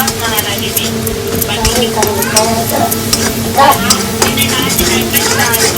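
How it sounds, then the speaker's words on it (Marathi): Vegetables cooked with masala fry steadily in oil in a home kitchen pan, a continuous sizzle broken by scraping and stirring of a spoon against the pan, with a voice talking intermittently over it. "तेल सुटेपर्यंत याला तळू द्यायचं"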